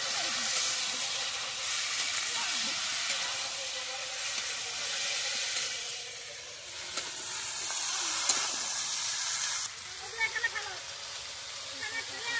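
Bhola river fish, eggplant and potatoes sizzle in a pan while being stirred, a loud continuous hiss of frying with soft scraping and a few light clinks toward the end.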